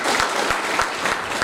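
Loud, lively crowd applause at a software expo, a dense burst of many hands clapping together with a few sharper individual claps standing out, continuous through the short stretch.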